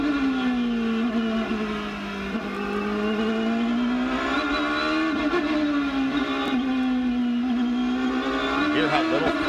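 IndyCar race cars at Mid-Ohio running at low throttle, a steady droning engine note that rises and falls gently throughout, fairly loud and continuous with faint crowd or commentary underneath.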